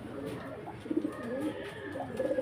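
Soft, rounded cooing from a racing pigeon, a few low burbling notes rising and falling over steady background hum, fairly faint and close.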